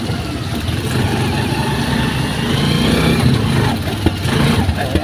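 A small motorized bicycle engine with a wet spark plug runs rough and sputters, a steady close, loud mid-pitched putter with uneven misfires and a few sharper pops near the end.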